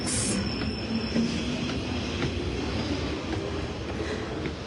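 A train rolls along the rails with a continuous dense rumble and clatter, a high squeal near the start, steady and fairly close throughout with no talking.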